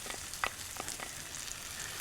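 Caramelized onions warm up on a griddle over lump charcoal, giving a quiet, steady sizzle with a few faint crackles and pops, and no voices.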